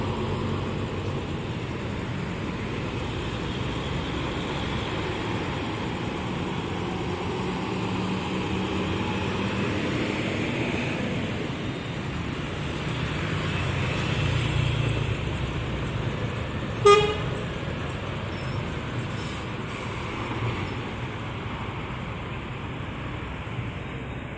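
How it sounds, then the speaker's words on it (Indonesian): Putra Pelangi bus passing the Lambaru roundabout at night: steady broadband traffic rumble swelling as the vehicle goes by, with a short horn toot near the end and no talk. "Putra Pelangi melintas di Bundaran Lambaru."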